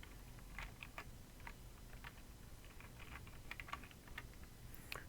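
Quiet typing on a computer keyboard while coding a PyQt project, a steady patter of light close keystrokes in irregular bursts over low background hum, with no speech.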